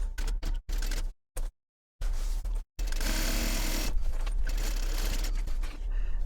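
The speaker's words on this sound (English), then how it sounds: "Baste it using a 1/8 inch seam allowance." A sewing machine runs in short bursts with pauses between, then stitches continuously, basting a seam at an eighth-inch allowance on fabric pieces of a cube pattern.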